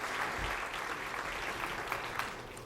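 A crowd at a PBA Tournament of Champions bowling match claps and cheers steadily to lift a struggling bowler, a dense, continuous wash of applause at moderate volume with a few sharper claps standing out.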